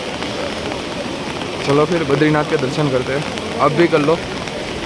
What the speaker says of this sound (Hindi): यहाँ पे फुल बारिश चल रही है, आप देख सकते हो।